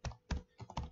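A few close, soft keystrokes tap on a computer keyboard while C code is written, about four quick clicks in one second.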